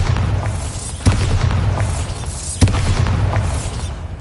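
Bombarda spell explosions in Hogwarts Legacy, two punchy booms about a second and a half apart, each with a crackling, shattering tail over a busy game soundscape.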